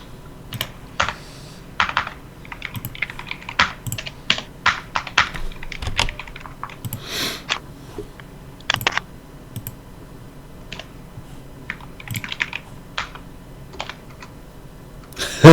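Mechanical computer keyboard keys being typed on in fast, uneven bursts of clicks and clacks, close and fairly loud, going on almost without pause, with no talking.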